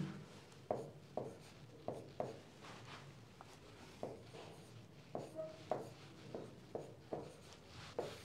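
Math is written by hand on a board or paper in soft, short taps and scratches, arriving in quick irregular bursts of strokes. The sound is faint and close, with no speech.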